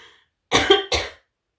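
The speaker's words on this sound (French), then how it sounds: "pardon, je tousse un coup" Two short, sharp coughs in quick succession, close and clear, with near silence around them.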